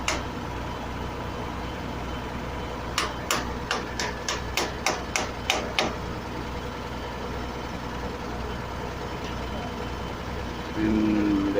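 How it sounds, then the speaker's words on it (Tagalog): Impact wrench rattling in about ten quick bursts as it tightens nuts on the flange of a rusted old pipe with a gasket between the pipe ends, loud and close against outdoor background noise. "they put a nut to fix, and they use a impact wrench"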